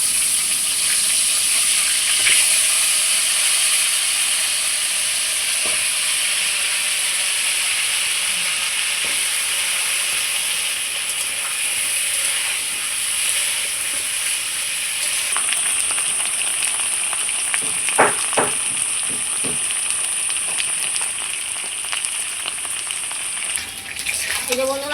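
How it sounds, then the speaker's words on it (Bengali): Potatoes fry in the oil left over from frying catfish, a steady sizzle and hiss running throughout with a few stirring clinks and scrapes near the end, close and continuous with no talk. "মাছ ভাজা তেলের মধ্যেই আলুটা ভেজে নেব।"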